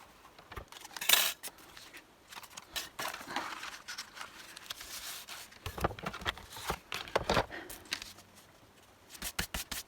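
Scissors cutting card paper while making a handmade card, heard as a series of short, close snips and crisp paper rustles in irregular bursts, with brief pauses between cuts and no talking.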